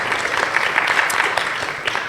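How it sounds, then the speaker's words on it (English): Audience applause at a talk hosted by a fellowship: dense, even clapping from a room of listeners, steady throughout the two seconds. "Please give a round of applause."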